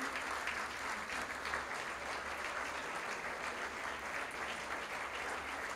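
An audience applauds clinic staff at a gathering, steady dense clapping from a crowd that holds its level throughout, alone with no talk.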